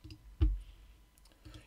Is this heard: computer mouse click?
yes